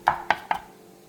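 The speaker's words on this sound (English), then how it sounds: "Let's go ahead and make sure that we mince this garlic as much as we can." A knife mincing garlic cloves: three quick, crisp chops in a row, close and clear, then quiet.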